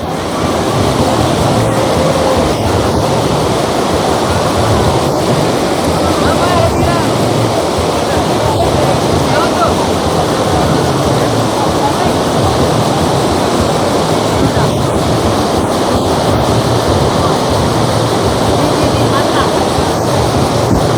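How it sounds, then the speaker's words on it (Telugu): Rushing stream water at Chaparai waterfall in Araku Valley, fed by hill rain, makes a loud, constant roar close by, with wind buffeting the microphone and voices faintly mixed in. "ఆ వర్షం అంతా కలిపి ఇలా వాగుల్లోకి వస్తుంటుంది అనమాట అండి ఇది"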